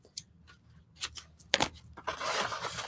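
Scissors snip through paper while a scarab picture is cut out for an Egypt-themed collage, a series of crisp close cuts with short pauses between them, then a louder rustling of paper at the end.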